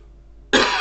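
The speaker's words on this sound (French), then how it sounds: "je vais tousser un peu." A single short cough bursts out abruptly after a quiet stretch of low background hum, close and fairly loud, with no speech around it.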